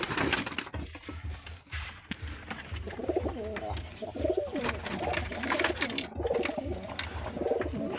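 Pigeons in a pigeon loft coo and flutter at close range, their soft burbling calls layered over wing flaps and rustling, with occasional handling noises.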